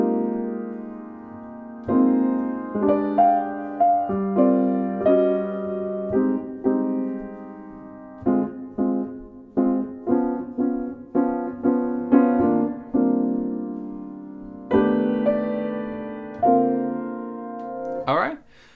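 Solo bossa nova jazz piano with sustained chords broken up by short syncopated rhythmic hits, played clearly and moderately loud with no voices.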